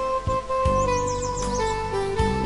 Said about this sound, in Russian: поют птички